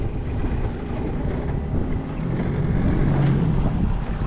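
Strong wind buffeting the microphone on a choppy river while fishing from a boat, a continuous low rushing roar with lapping water, loud and unbroken, no voices.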